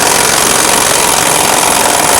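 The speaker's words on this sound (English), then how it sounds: "Grab a 15mm socket and remove this bolt." A 15mm socket on a power tool spins out the spare tire carrier bolt on a 2007-2014 Chevrolet Silverado 2500 HD, producing a loud, continuous rattling buzz that lasts the whole moment.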